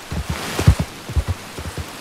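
Heavy rain in Red Dead Redemption, with thick drops landing as irregular soft thuds, close and fairly loud, with no talking.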